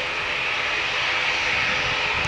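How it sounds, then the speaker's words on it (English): An ATR turboprop aircraft at Manchester Airport gives a steady, loud engine roar with a constant high whine, continuous and unbroken throughout, with no talk. "Another ATR has just landed."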